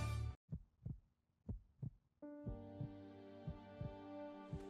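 A heartbeat sound effect gives several deep, evenly paced thumps alone, then continues softly under a sustained humming musical tone.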